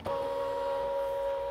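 A Brother ScanNCut craft cutting machine starts a cut, giving a steady, close motorized whine that holds evenly for over a second with no talking.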